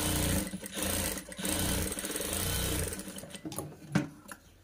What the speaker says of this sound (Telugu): నేను డబల్ స్టిచ్ వేస్తున్నానండి కదలకుండా.